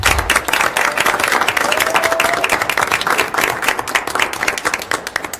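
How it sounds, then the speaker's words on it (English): Applause from a school board meeting audience, a steady dense patter of many hands clapping close by that continues throughout without talk. "Round of applause for her once again."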